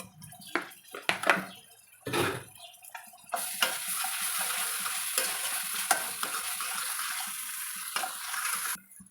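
Onions with ginger garlic paste sizzle and fry steadily in a pan, a bright continuous crackle that starts after a few scrapes of stirring and stays loud and close throughout.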